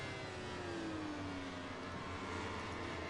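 Motorcycle engine in the MotoGP 21 racing game, revving hard with a falling pitch sweep as it is shifted down through the gears, loud and continuous with steady race-engine roar behind it.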